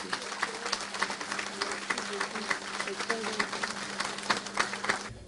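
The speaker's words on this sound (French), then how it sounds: "je vous demande de l'applaudir très très fort" A crowd claps steadily throughout, a dense patter of applause with a faint voice or tone underneath.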